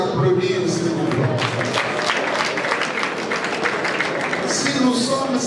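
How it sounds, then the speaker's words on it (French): A crowd at a political party congress applauding in a dense, sustained wave of clapping, with a voice talking over it. "Si vous pouvez les applaudir, s'il vous plaît"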